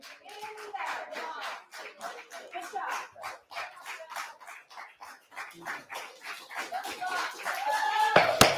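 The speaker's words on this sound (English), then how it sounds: "we're gonna stop the clapping" Scattered audience clapping at a town select board meeting, sharp irregular claps from a small group, moderately loud and building toward the end, with voices under it.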